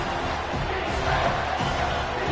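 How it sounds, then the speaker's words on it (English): Stadium crowd noise from the College Football 25 video game, a broad roar swelling on third down during a game against Miami, steady and moderately loud, mixed with faint commentary. "Decibels rising as the crowd gets behind this defense on 3rd down."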